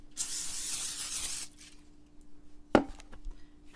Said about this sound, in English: I love to use my nonstick spray.